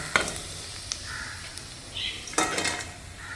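Ingredients frying in hot oil for Malaysian nasi lemak, a soft steady sizzle with a couple of light utensil clinks, fairly quiet and close with no talking.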